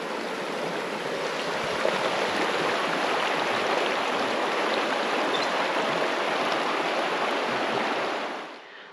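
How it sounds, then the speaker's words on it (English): Water of the Donaldson River in the remote Tasmanian wilderness flows with a steady broadband rush, constant and fairly near, fading out at the very end. "Just enjoy listening to the water and the bird life."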